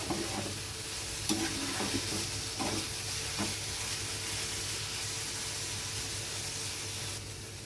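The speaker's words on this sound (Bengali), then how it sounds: "খুব ভালোভাবে মোচাটা তেলের সাথে নেড়ে নেব" Chopped banana flower fried in oil and stirred steadily, a close, continuous sizzle with spatula scrapes and clinks through the first few seconds, alone without speech.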